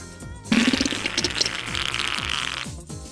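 One long, sputtering, rasping fart lasting about two seconds, loud and close over background music.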